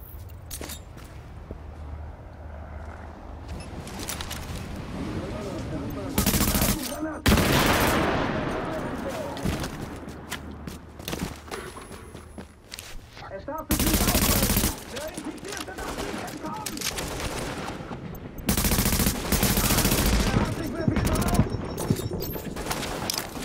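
Bursts of gunfire in the video game The Division, several loud volleys and single shots, over steady game background noise with occasional footsteps.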